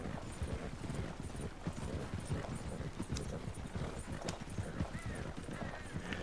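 Horse hooves clip-clopping at a gallop in Red Dead Redemption 2, a steady rapid drumming of hoofbeats up close, with a brief whinny and game ambience behind.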